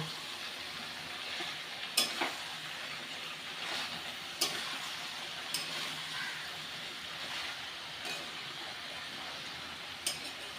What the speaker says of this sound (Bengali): এবার ভালো করে নেড়ে চেড়ে মিশিয়ে দেবো